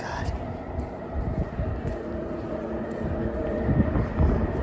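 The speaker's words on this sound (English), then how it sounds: "Train station." A train rumbles and rolls through a station with a low, continuous mechanical roar and faint rhythmic clatter under the ambience, steady and fairly close for several seconds.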